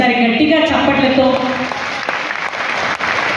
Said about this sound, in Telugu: ఒకసారి గట్టిగా చప్పట్లతో